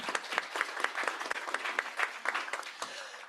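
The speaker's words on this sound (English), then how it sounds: "let's give a round of applause to that" Conference audience applauding at a First Nations police governance gathering, a fairly quiet, somewhat distant patter of individual claps with a clear, irregular rhythm, heard on its own.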